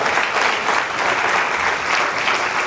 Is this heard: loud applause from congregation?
yes